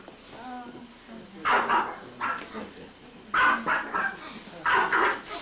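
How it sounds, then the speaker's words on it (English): A dog barks in repeated short bursts during a 1999 trip to China, several loud barks spaced across the moment, with a voice heard briefly at the start. "Here's his dog."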